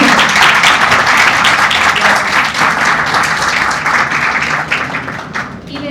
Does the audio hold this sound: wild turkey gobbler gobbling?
no